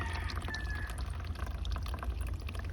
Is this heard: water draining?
yes